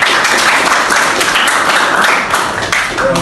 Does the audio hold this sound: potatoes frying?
no